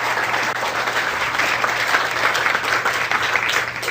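An audience claps in sustained, dense applause, a steady roar of many hands at close range with no break.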